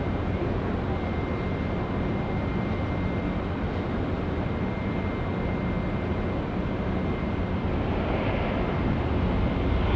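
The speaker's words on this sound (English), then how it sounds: "It's the A350 Sonana. There's an emoji for that there in the chat. And just landing now here on runway 23 at Auckland Airport" Airbus A350 touching down on runway 23 at Auckland Airport, a steady broadband roar of airliner engines and wind noise that holds loud and unbroken throughout, swelling slightly near the end.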